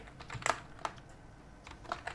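Typing code on a computer keyboard, with a few light, scattered key taps in two small clusters, quiet and close, with no talking.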